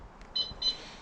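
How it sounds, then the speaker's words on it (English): Two short electronic beeps sound from the alarm system of a 2019 Adora 612DL Seine caravan as it is locked and armed, faint with a brief gap between them. "two beeps, and that's my alarm now armed on the van"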